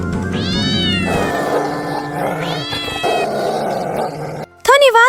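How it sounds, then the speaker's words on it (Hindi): A cartoon cat attacking a squirrel in a jungle, with loud drawn-out meows and snarling growls, followed by a sharp high caterwaul at the end over a busy animated soundtrack. "जंगल में कुछ महीने बाद वीरा एक गिलहरी को बिल्ली के हमले से बचाता है।"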